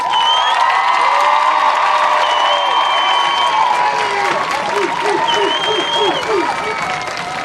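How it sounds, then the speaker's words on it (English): Applause from a large crowd at a high school commencement ceremony, dense clapping with scattered cheers and shouts, loud and sustained throughout, with some voices calling out. "Let's have a round of applause."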